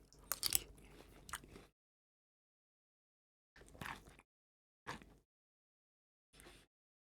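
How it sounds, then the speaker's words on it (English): Crunchy little cereal grain squares with red or pink flavor dusting being chewed up close, with a long burst of crisp crunching followed by three shorter bites after a pause. "little cereal grain squares with red or pink colored flavor dustings. Let's get a taste."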